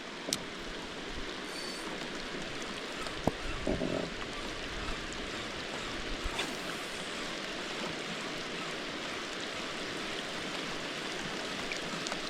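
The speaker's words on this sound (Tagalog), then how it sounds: "Naabutan na kami ng ulan." Rain falls steadily outdoors near water during a fishing outing, a dense continuous hiss with a few brief knocks and no clear talking.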